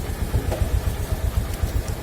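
A motorcycle engine idles steadily as the bike is pulled aside to park, a low, even, close putter with regular pulses and no talk over it.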